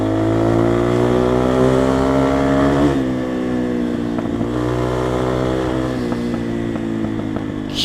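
A Motorhead Sports 250 dirt bike engine runs loud and close for the whole stretch, its revs rising and dipping with uneven, stuttering misfire pops breaking through the steady drone.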